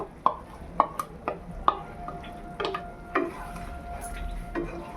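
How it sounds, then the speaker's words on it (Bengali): A ground paste of cashew, poppy seed and raisin is stirred into cooked chicken in a pan, with irregular spoon clinks and scrapes against the metal over a faint sizzle. "এবার আমি এই কাজু, পোস্ত, কিশমিশ বাটাটা দিয়ে দেব।"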